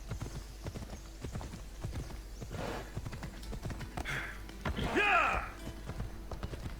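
Horse hooves clip-clop in a steady, fairly close trotting rhythm in the video game Assassin's Creed Odyssey, with a brief whinny near the end and someone talking at times.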